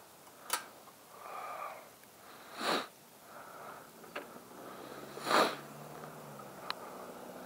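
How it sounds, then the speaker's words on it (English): Several short sniffs through the nose at irregular intervals, close and fairly quiet, with a steady outdoor hush underneath in freezing weather. "Sorry guys for sniffling."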